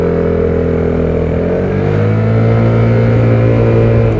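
Engine of a 2018 Vespa GTS 300 scooter with its 21 hp single-cylinder revving up steadily under acceleration, a loud continuous drone rising in pitch and staying close throughout.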